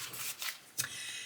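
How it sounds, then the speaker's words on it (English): A thick tarot deck is shuffled in two or three soft, papery riffling bursts, faint and close, with no one speaking. "let's go ahead and see how they shuffle."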